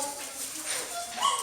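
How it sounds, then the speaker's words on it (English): Several male dogs whimper and whine in short, high, wavering yips, fairly close and moderately loud over a faint background. "Amazing dogs."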